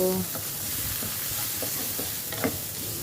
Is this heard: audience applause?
no